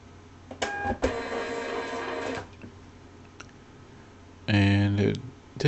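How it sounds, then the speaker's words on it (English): A Zebra GK420d desktop label printer prints a label in several short mechanical whirring bursts separated by pauses, the last burst louder and close. "I'm going to print."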